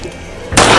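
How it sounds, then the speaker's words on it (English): A single abrupt gunshot in the horror video game Granny 2 cuts in sharply and holds as a loud, noisy burst after a quiet moment. "I'm gonna shoot someone today."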